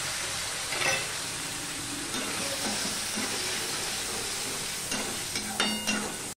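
Diced tomato, green chillies and ginger paste fry in a pan with a steady, close sizzle, and a few stirring scrapes and clinks break through the hiss; nobody talks.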